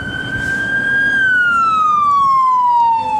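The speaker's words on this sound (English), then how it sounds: "And then the fire department. I hate hearing that noise." A fire department fire truck siren passes on a Phoenix street: one loud, steady wailing tone that slides down in pitch as it goes by, over low traffic rumble, with no talking.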